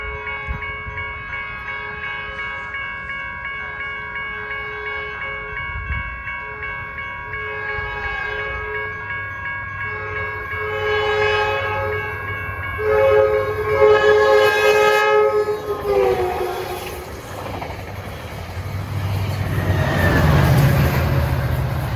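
A Caltrain Bombardier train nears and passes trackside, its K2-style air horn blaring a long sustained chord before the rumble and clatter of the cars swell up close.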